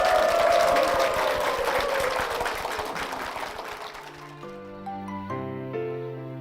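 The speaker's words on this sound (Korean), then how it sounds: "축복의 박수 부탁드리겠습니다" A church congregation claps in applause of blessing, loud and dense at first, then fading over a few seconds as sustained organ or keyboard chords come in underneath.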